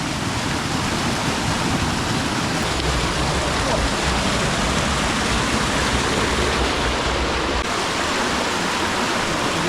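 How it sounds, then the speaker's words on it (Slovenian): Small waterfalls of the Beli potok stream pour steadily, a dense, continuous rushing wash of water heard close and fairly loud, with no voices. "Trije majhni slopiči, en za drugim."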